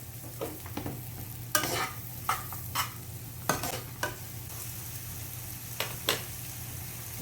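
Mushrooms sautéing in a pan sizzle steadily while a utensil stirs them, with scraping strokes and clatters recurring every second or so, close and fairly quiet, with no talk.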